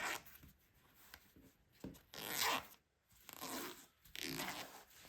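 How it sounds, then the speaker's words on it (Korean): A zipper being torn apart for a crochet crossbody bag, close, quiet raspy tearing in several bursts separated by short pauses, with no talking. "이제 지퍼를 찢어주세요"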